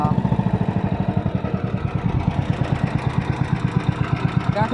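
An old 19 HP high-speed Sumonrato engine idles with a steady, rhythmic chugging. The pulses are close, loud and even throughout, with no talking.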